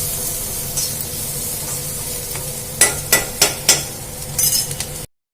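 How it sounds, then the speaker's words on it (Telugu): A low steady sizzle of tempering spices with asafoetida frying in hot oil under clanking, then four sharp metallic taps in a row and some stirring scrapes before it cuts off. "ఈ పోపు అయితే కొంచెం వేగాలి"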